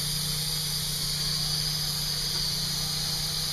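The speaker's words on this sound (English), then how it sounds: "That's the chemical reaction of the insulation expanding and filling every crack and" Spray foam insulation being applied to a house, a loud, steady, continuous hiss with a constant hum underneath and no breaks.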